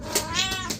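A pet cat named Miley gives a single short, clear meow close by, slightly drawn out with a wavering tone.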